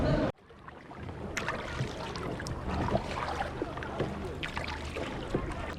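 Paddling a small boat through a sea cave in Lan Ha Bay, Vietnam, with steady watery splashes and dribbles of the paddle strokes close by, over a continuous rumbling echoing background.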